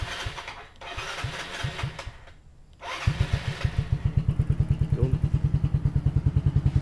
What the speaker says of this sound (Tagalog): i-start na natin mga brother para masubukan ang ating bagong palit na langis na motor